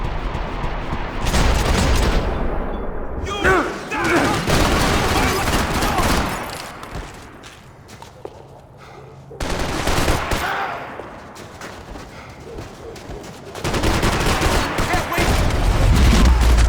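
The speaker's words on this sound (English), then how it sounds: "Gunfire over Hoboken." Heavy gunfire in the Hoboken level of the Max Payne 3 video game crackles in dense bursts, a sustained loud fusillade that drops away briefly and then resumes in fresh volleys.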